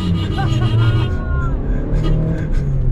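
A Honda Civic and a Corolla Grande launch side by side in a drag race, their engines roaring loud and close throughout, with crowd chatter mixed underneath.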